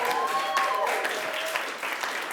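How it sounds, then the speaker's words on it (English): An audience at a science communication competition final applauds the judging panel, a steady wash of clapping lasting a couple of seconds with a faint voice and tones underneath. "can I have a round of applause for the panel?"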